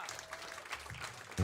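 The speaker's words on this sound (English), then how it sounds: "Please give him a massive round of applause." Audience applause at a live Cal Williams Jr Trio gig, a brief burst of steady clapping from the room, fairly close, with a louder swell at the very end.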